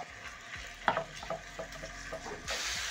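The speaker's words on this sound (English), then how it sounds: "Add in my minced meat, and using my spatula, I'm going to break down the minced meat or ground meat as it cooks" Minced ground beef frying in oil in a pan for a cabbage stir-fry, broken up with a spatula: a steady close sizzle under repeated scraping and tapping strokes, growing louder and brighter toward the end.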